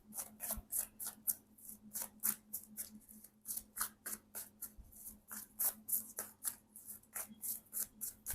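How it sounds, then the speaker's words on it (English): Tarot cards are shuffled close up, a steady run of crisp riffling slaps and flicks repeating quickly, with no talking over them. "let's do it one more shuffle"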